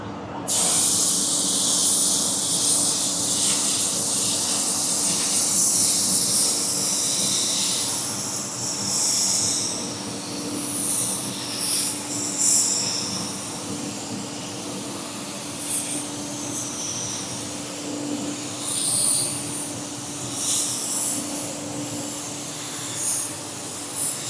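A spray gun lays down a clear coat blend on an automotive panel, producing a steady close hiss that runs continuously with slight surges as passes continue, alone without talk.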